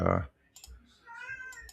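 A cat gives one short, loud meow close by, followed by faint clicking and a person speaking softly.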